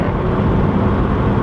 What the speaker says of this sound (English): It revs so high and so fast